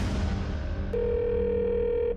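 Korean mobile network's switched-off announcement tone: a steady, clear electronic beep that starts about a second in and holds evenly for over a second against a low background hum.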